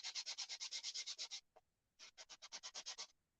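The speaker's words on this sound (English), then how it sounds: "So I just have a little sanding block. It's a very fine grit, like 220." Fine 220-grit sanding block rubbed in quick strokes over a small wooden St. Patrick's Day shelf sitter, about a dozen rapid scratchy passes, a short pause, then another burst of strokes, close and fairly quiet with no talk.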